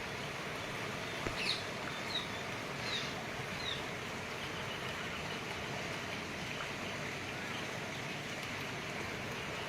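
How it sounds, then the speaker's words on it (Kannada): The swollen Tunga river, running fast after heavy rain in the Malenad hills, gives a steady, loud rushing roar that fills the scene, with a few faint bird chirps above it. "ಇಷ್ಟೊಂದು ವೇಗವಾಗಿ ತುಂಗೆ ಹರಿತಾ ಇದ್ದಾಳೆ"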